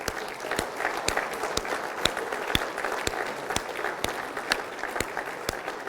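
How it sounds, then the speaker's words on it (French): A crowd at a New Year's civic greetings ceremony in Pithiviers applauds Anthony, a steady wash of clapping with a few louder, sharper claps standing out at regular intervals, sustained for several seconds. "je vous invite à applaudir Anthony"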